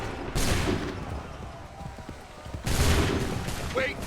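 Gunfire volleys in Assassin's Creed III, two loud, ragged bursts of many muskets firing together, separated by a short lull, with scattered shouting voices between them.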